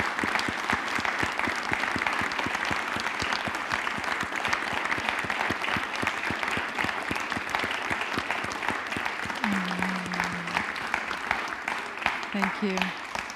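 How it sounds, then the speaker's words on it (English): Church audience on its feet applauding loudly, a dense sustained roar of clapping with scattered shouts and hollers throughout, while a voice speaks over it. "let's all stand up and just clap our hands and shout and holler for them"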